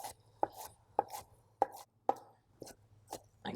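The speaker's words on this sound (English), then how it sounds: "So just run your knife through." A knife chops kimchi on a cutting board, several distinct sharp thunks at a steady, unhurried pace, close and clear with quiet gaps between strokes and no talking.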